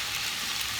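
Vegetables and rice stir-frying in a pan for vegetarian shrimp fried rice, a steady close sizzle with soft stirring, brief and even.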